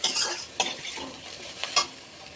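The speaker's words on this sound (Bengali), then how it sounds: "হিংটা দিয়ে একটু নেড়ে নিই" Asafoetida frying in hot oil for biulir dal, a soft sizzle broken by a few quick spatula scrapes, close and fairly quiet, no talking.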